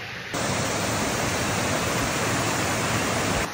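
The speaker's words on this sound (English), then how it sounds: "I've got a waterfall behind me, down on the River Alport" Waterfall on the River Alport in the Peak District, a dense continuous roar of falling water that rises abruptly after a brief quieter start and then holds steady and loud.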